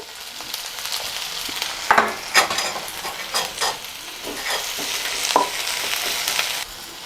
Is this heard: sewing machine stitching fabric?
no